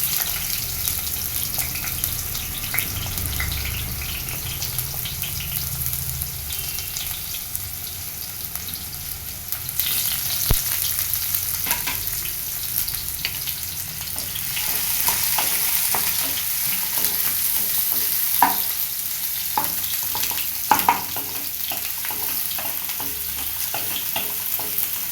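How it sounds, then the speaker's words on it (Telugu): Onions frying in a pan with bay leaf, cinnamon sticks, cardamom and cloves give a steady close sizzle, with occasional stirring clicks and scrapes throughout. "onions fry"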